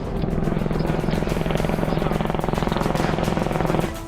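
Indian Air Force Apache helicopters give a loud, steady, rapid rotor thrum with a fast, even pulsing beat. The sound holds strong for about four seconds and then eases off slightly at the end.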